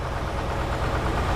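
A backhoe engine runs at a low, steady idle, a close, continuous rumble with slight knocking pulses and no voices.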